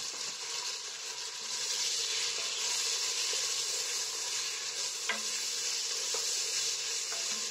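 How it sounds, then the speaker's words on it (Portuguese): Steady, loud sizzling of meat frying in hot oil, a constant crackling hiss throughout with a few faint clinks, no voices. "Já está quente o óleo. Então, agora eu vou colocar aqui a carne."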